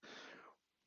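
A single short, breathy human sneeze, close and fairly soft, bursting for about half a second before dropping to near quiet.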